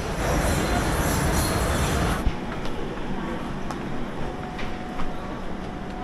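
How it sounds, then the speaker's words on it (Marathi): The Madgaon–Mumbai Mandovi Express pulls out of platform one: a dense, steady rumble for about two seconds drops off abruptly into quieter station ambience with faint metallic squeals and knocks. "माडगाव मुंबई मांडवी एक्सप्रेस एक नंबरवरून रवाना झालेली आहे"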